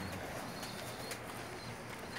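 Golden pigeons coo softly on a rooftop loft in Jeddah, Saudi Arabia, their low calls faint beneath a steady background hiss, with a brief sharper sound at the very end.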